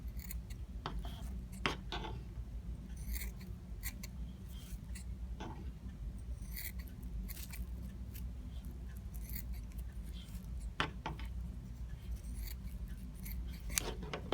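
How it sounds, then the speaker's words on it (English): Scissors snip through a newspaper plastic bag, cutting it into strips for plarn, heard as irregular close crisp cuts and soft plastic rustles over a low steady background hum. "start cutting about 1-inch strips"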